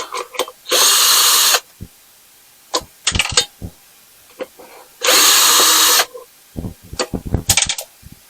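A power drill drives small star bolts while scrapping a unit with a plastic handle and aluminum tray: two loud, close whirring bursts of about a second each, with metallic clinks and rattles of handling in between.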